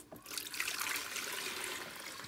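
Tap water runs steadily into a Blendtec blender pitcher, a soft, continuous close trickle and splash with no talking.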